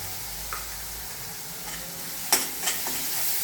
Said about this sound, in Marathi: आता हेच परतताना थोडासा कांदा बारीक चिरलेला आहे, तो कांदा मी त्यात घालून घेते